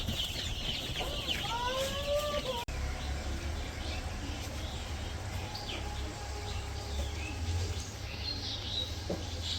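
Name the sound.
chickens clucking while being fed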